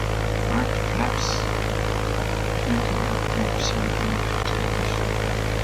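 A Cessna 172 propeller engine drones continuously in a flight simulator game during a carrier approach, a steady close hum with a constant low throb and no talk.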